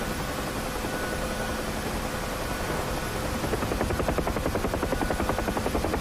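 A helicopter in the DCS World flight simulator gives a steady whine and engine roar, and the rhythmic thumping of its rotor grows louder and more pronounced toward the end.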